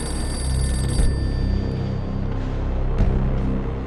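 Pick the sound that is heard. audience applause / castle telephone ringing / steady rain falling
castle telephone ringing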